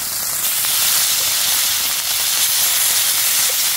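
Squid rings (rabas) frying in hot oil make a loud, close, continuous sizzling hiss that stays steady throughout, with no voices over it.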